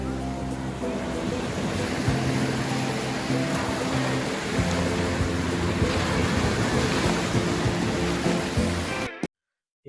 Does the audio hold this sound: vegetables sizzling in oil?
no